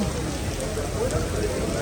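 Rain pouring steadily on 5th Avenue in New York City, a dense, even hiss of drops on pavement and surfaces, loud and continuous for the short stretch with no clear voices.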